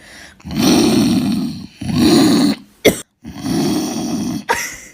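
A woman gives three long, rough, growling roars in imitation of a lion, separated by short breaths and a sharp gasp, loud and close.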